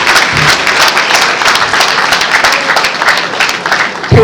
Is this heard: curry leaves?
no